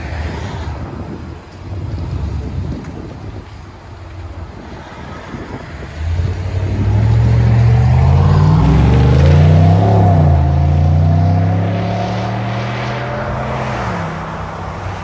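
A GMC truck with a 6.2L V8 and aftermarket exhaust revs hard, building from a low idle into a loud, sustained roar that climbs and falls in pitch, with wind buffeting the microphone.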